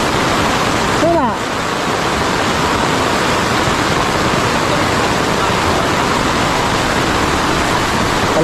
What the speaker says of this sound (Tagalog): Palakas yung tubig.